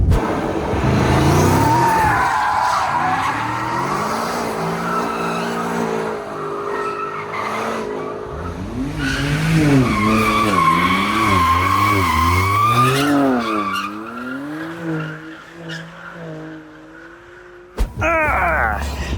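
A BMW M5 driven hard with its engine revving and tires squealing through repeated skids, loud and close, sweeping pitch rising and falling over about seventeen seconds before a sudden cut.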